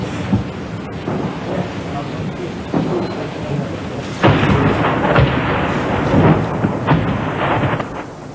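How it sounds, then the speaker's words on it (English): Artillery shells burst around a railway yard during the 1992 bombardment of Sarajevo: muffled distant booms and rumbling blasts roll over continuous noisy crackle, with a heavier impact partway through. "The shells land long, around Sarajevo's railway yard."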